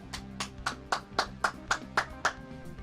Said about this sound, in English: Stand to applaud you